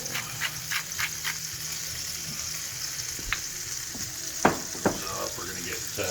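Thick swordfish steak frying in a pan, a steady faint sizzle with occasional sharp pops and crackles.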